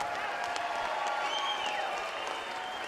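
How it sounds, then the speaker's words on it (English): Arena crowd applauds both boxers after a ten-round championship women's bout, steady sustained clapping and crowd noise with a faint announcer voice running beneath. "let's have a big round of applause for both of the fighters in this ring."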